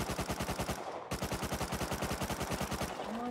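Rapid automatic gunfire in the survival game Rust, a steady stream of evenly spaced shots with a brief break near the start, loud and close with no talking.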